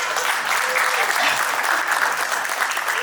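An audience at an eighth-anniversary celebration event claps loudly and steadily, a dense continuous applause with no pauses.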